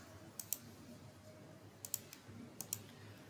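A computer mouse clicks in pairs while server settings are changed, three quick double clicks spaced over a few seconds, faint and close against a quiet room hiss.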